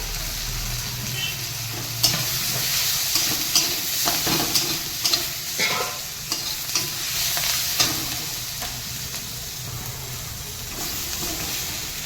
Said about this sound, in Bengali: এই পেঁয়াজ আর টমেটো পুরো ভাজা ভাজা হয়ে গেছে এবার মশলা দিয়ে এবার কষাবো